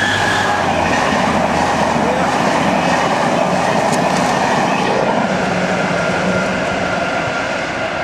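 A passenger train, the Enterprise to Belfast, rolls past close by, a loud continuous roar of wheels on rails with rhythmic clatter and a faint squeal.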